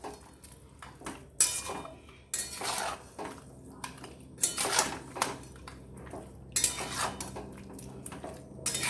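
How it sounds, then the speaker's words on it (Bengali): A metal spoon scrapes and clatters against a pan while chicken rasa with onion, ginger, garlic and green chilli paste is stirred over high flame, in irregular close knocks and clinks with quieter gaps between. "এখন কিন্তু হাই ফ্লেমে দিয়েই নাড়াতে থাকবো।"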